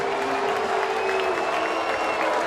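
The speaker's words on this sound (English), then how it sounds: "Clinton will get a big round of applause for sticking up for his player" A baseball stadium crowd applauds and murmurs in a steady, broad roar with no breaks, loud and continuous across the brief moment.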